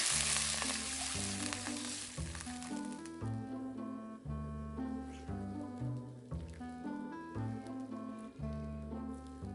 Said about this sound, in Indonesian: Kita masukkan air,